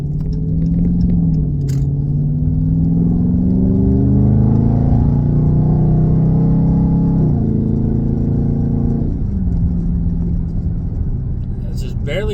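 A lightly cammed Tempest four-door muscle car pulls up a hill under gentle throttle, its engine a loud, steady rumble that rises in pitch, dips at a shift, then climbs again.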